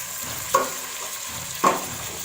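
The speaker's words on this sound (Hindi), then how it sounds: "कलर चेंज होने तक मैं इसको फ्राई कर लूँगी" Something frying in a pan, a soft steady sizzle with two brief scraping stirs of a spatula standing out close by.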